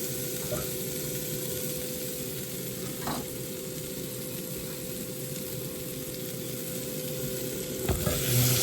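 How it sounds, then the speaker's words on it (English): Apple cider vinegar hissing and sizzling in a hot pan as it deglazes a korma base, a loud steady close-up fizz with a few scraping stirs against the bottom of the pan. "Deglaze the pan with some apple cider vinegar."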